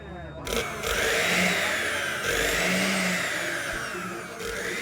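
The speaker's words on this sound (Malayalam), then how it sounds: "ഓവർലോഡ് മാത്രം മാറ്റി കൊടുത്താൽ മിക്സി കറക്റ്റാണ്." An electric mixer grinder with a replaced overload switch runs close by with a whirring motor drone that rises and dips in pitch over several seconds, starting after a short silence.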